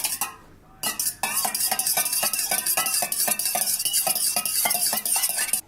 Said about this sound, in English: And now I'm going to be mixing it with the fork.